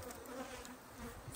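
A dense, steady buzzing of many honey bees at a hive, close and continuous, with occasional louder swells as individual bees pass nearby and bump into the microphone.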